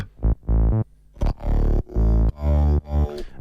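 A low-octave vocoder growl in an electronic dance track's drop, heard as distorted, buzzy synth-voice stabs in short rhythmic bursts, punchy and upfront with no talking.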